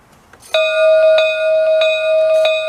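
A bright electronic bell from the sound unit in an Accucraft Ruby model locomotive's tender rings steadily, struck about four times in an even rhythm, loud and close with a sustained ringing tone.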